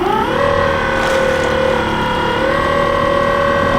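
A $400 electric outboard motor drives a boat upwind, giving a loud, steady whine with a slight pitch rise near the start over continuous water and wind noise.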